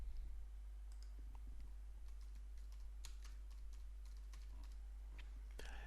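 A name is typed on a computer keyboard to create a Joomla menu, with crisp key clicks in short bursts over a steady low hum.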